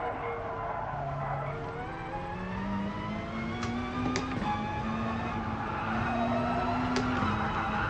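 A race car in the video game GT Sport accelerates through gear changes with whining engine tones while tyres squeal and skid, heard from the cockpit view at a moderate, steady level with no talk.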